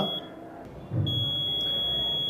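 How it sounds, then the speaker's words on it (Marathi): An electronic voting machine gives a steady, continuous high beep while its stored votes are being cleared, a thin unbroken tone sustained throughout over a quiet room. "बीपचा सलग आवाज यायला सुरुवात होते"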